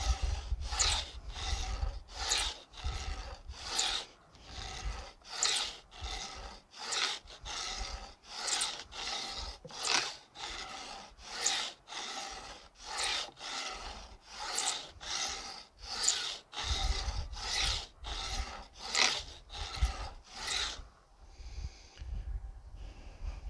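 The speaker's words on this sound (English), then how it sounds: "Now back to the beveling file to give a nice bevel to the guitar." A beveling file rasps along guitar fret ends during a refret, giving about twenty-five steady, evenly spaced strokes, close and clear with no talk, before falling quiet at the end.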